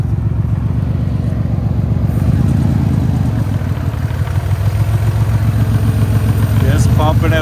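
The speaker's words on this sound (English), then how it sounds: "We got a little burnout" A Ford 2x4 truck engine revs and drones during a tire burnout, a loud rough rumble that surges and climbs in pitch, with a voice speaking over it.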